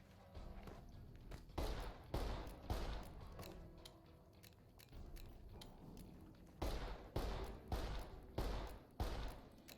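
Gunfire in the video game Fallout: New Vegas during a fight with bandits near Primm, several heavy, thumping shots spaced irregularly over quieter background ambience, fairly faint overall.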